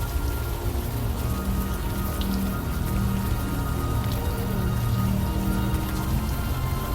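Steady rain falls in the game Unavowed, a dense, even hiss of drops on surfaces with a low rumbling bed beneath, constant and fairly loud throughout.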